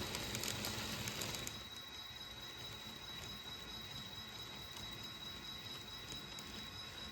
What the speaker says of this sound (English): a westbound through freight is switched off the outer loop main onto the secondary main track to yield right-of-way to the westbound Angelo